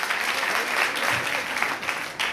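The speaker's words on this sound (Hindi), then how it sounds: "जोरदार तालियां अमित के लिए, अपनी धमाकेदार परफॉर्मेंस के लिए जोरदार तालियां।" Steady, fairly loud crowd applause for Amit's performance at an event, continuous clapping throughout.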